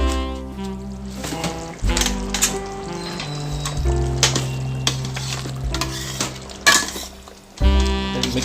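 Pork vindaloo being stirred and fried in a pan, with a spoon scraping and clinking against the metal over a steady sizzle, close and continuous with irregular louder knocks.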